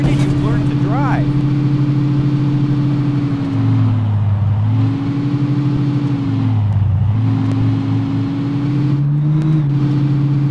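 A Mercedes-Benz E Class drives in the game Taxi Sim 2023, its engine drone holding steady with a few dips and rises as it shifts and revs, loud and continuous throughout.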